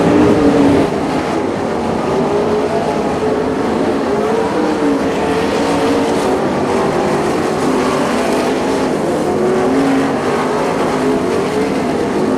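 Sprint cars racing around a Maine speedway track, a loud continuous engine drone with rising and falling pitch as the leader pulls away and the pack circulates, steady throughout without talk.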